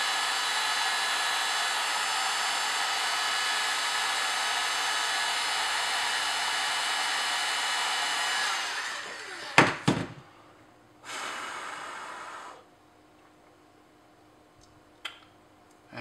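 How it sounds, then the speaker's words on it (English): A heat gun blows a steady, loud whooshing hiss as it shrinks heat shrink tubing around wires, running for about eight seconds before switching off, followed by a few handling knocks and a short burst of noise. "as you heat it up, that heat shrink is going to begin to shrink around those wires"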